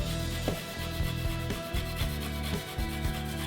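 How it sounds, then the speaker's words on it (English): A lemon is zested on a cheese grater, its rind rasping against the metal in quick, steady scraping strokes, close and fairly quiet. "So you're going to get a cheese grater and then just zest."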